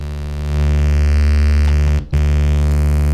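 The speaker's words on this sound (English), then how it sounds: "Another distortion plugin, Fruity Blood Overdrive." A steady, dense, buzzing distorted tone from the Fruity Blood Overdrive distortion plugin in FL Studio, loud and sustained with one brief dropout near the end and no speech.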